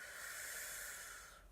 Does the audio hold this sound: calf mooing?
no